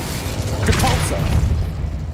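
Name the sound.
Depulso spell cast in video game Hogwarts Legacy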